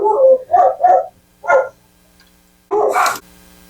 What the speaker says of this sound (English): as soon as I hit record, he starts barking again